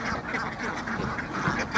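Ducks on a duck farm quack in a dense, continuous chorus while being fed dry paddy, the overlapping calls close and busy throughout.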